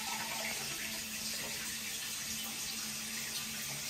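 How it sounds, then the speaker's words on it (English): An EPLO EP-16 smart toilet with heated bidet seat carries out a full automatic flush, heard as a steady close rush of water lasting a few seconds with no speech. "when you stand up, it will flush. It seems like it's doing a full flush."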